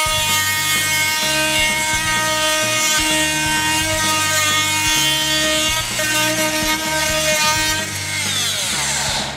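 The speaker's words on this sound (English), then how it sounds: "The tool we're going to use to cut this, we call the jitterbug. It's a multi-tool." An oscillating multi-tool cuts into a grand piano with a loud, continuous buzzing drone. The piano's strings ring in sympathy throughout, and a rhythmic grinding pulse rises and falls as the blade works.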